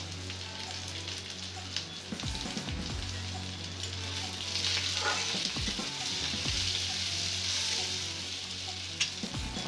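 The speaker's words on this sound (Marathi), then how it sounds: "कांदा लाल झाला की त्यात 1 टीस्पून काळी मिरी, 1 टीस्पून जिरे, 1 टीस्पून धने घालून परतून घ्या." Onion fries in hot oil with black pepper, cumin and coriander seeds for an egg masala gravy, giving a steady crackling sizzle broken by several scraping stirs of a spatula.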